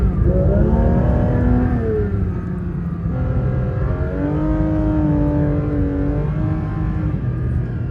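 A Porsche 992 GT3 RS engine drones loudly and continuously from inside the car as it drives in snow, its pitch rising and falling as the revs change, with no speech over it.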